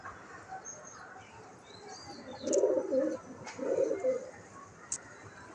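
Newly acquired pigeons being hand-fed give soft, low cooing bursts in two short spells midway, fairly close but quiet over a faint hiss of background noise.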